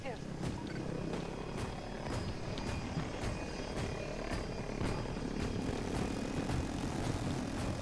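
A helicopter in Battlefield 2042 drones loudly and steadily with a rhythmic rotor chop throughout, amid constant battle noise.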